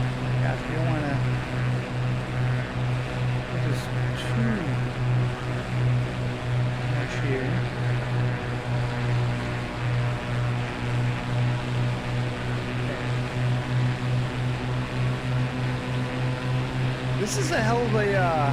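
Steady, droning aircraft engine in flight within a flight simulator game, a constant low hum with a pulsing tone that runs unbroken throughout, while a person talks over it.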